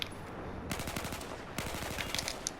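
Rapid M16 rifle fire in the video game Battlefield 4, fired from a crouch: two tight bursts of sharp, evenly spaced shots with a brief pause between them, heard close and without talk.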